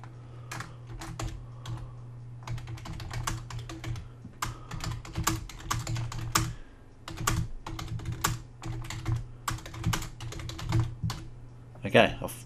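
Typing on a computer keyboard fills the scene with close, rapid, irregular keystrokes in bursts, while a person talks intermittently over the clicking.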